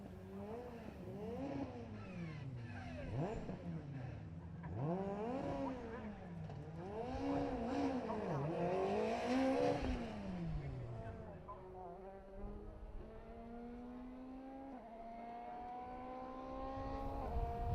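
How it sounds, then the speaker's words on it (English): Rally cars at Oulton Park race past one after another toward the finish line, engines rising and falling in repeated revving sweeps, then a loud sustained high-revving drone closes in near the end. "As the final cars cross the line"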